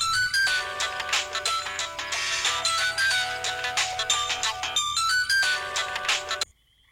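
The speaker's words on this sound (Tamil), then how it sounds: "நித்து, ஃபோன் கட் பண்ணுங்க" A phone ringtone plays a bright, repeating melodic tune loudly and steadily for about six seconds, then cuts off abruptly into silence, with no talking over it.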